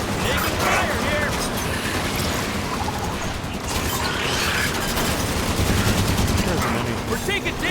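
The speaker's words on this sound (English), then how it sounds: "Taking fire here!" Dense, continuous gunfire in the shooter Halo 5, with rapid overlapping bursts, crashes and clatter sustained throughout, mixed with voices talking over the combat.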